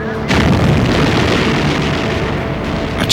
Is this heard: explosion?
yes